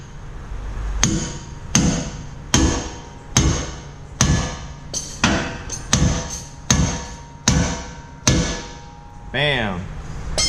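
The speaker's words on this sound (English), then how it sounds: "we gotta go ahead and separate it with the pickle fork here." A hammer strikes a pickle fork again and again in a steady rhythm, about ten sharp metallic blows, separating the ball joint on a 2019 RAM 1500 truck, ending with a ringing clang.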